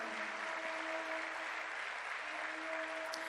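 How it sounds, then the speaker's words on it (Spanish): Faint, steady applause from a church congregation during worship, a soft even wash of clapping heard from a distance under a low sustained hum. "Dale un aplauso al Rey de Reyes"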